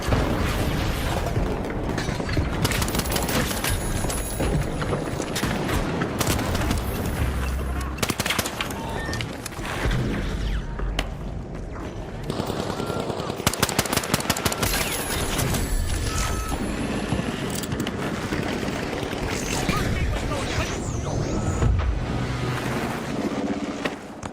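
Dense, loud gunfire, explosions and booms from the video game The Finals, including a grenade, layered with game effects and beeps and continuing without a break, while a player talks over the action.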